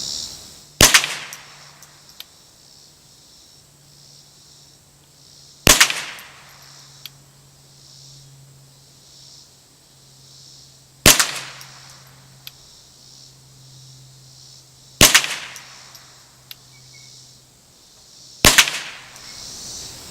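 Five sharp, loud Mossberg Blaze .22LR rifle shots fired at a target 25 yards away, spaced a few seconds apart, each a crisp crack with a short decaying tail over a faint steady hum.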